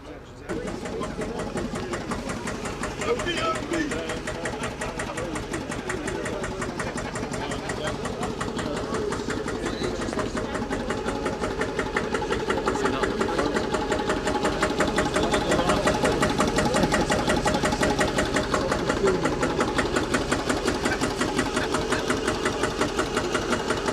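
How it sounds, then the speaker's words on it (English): A vintage Porsche tractor engine idles at an outdoor classic vehicle show, a steady, close, rhythmic knocking putter that runs unbroken and gets slightly louder partway through. "Porsche tractor. Lots of great vintage tractors here."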